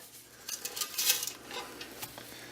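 A utensil scrapes sticky rice crispy treat mixture out of a pan in a home kitchen, giving a quick series of soft metallic scrapes and clinks, close and quiet, with no talk.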